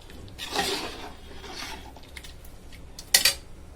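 A spoon scrapes and rubs through beef biryani in a pot, with soft rasping strokes early on and a couple of sharper metallic clinks near the end, no voices.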